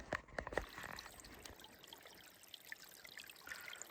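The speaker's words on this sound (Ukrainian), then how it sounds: "Такий струмочок так недалеко починається." A small, cold mountain stream trickles in the Carpathian forest, a soft steady water babble held low and close throughout, with a few brief clicks and splashes near the start.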